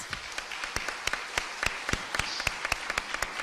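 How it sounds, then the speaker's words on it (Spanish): Sparse, fairly faint applause from an audience at an international constitutional law congress as a professor departs, with irregular individual claps standing out against a quiet room. "les pido por favor nuevamente un aplauso para él"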